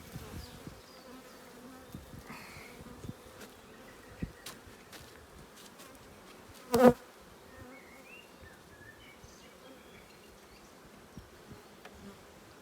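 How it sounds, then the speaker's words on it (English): Honeybees buzz continuously around an open hive in a low, steady drone, with occasional faint clicks and one brief louder knock partway through. "The bees are getting agitated because of the weather."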